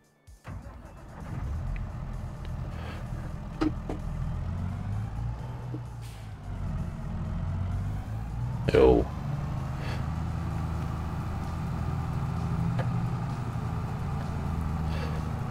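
A vehicle drives steadily in Farming Simulator 22 while spreading digestate across meadows, its engine a continuous low hum that varies slightly, with a brief clunk midway, under someone talking.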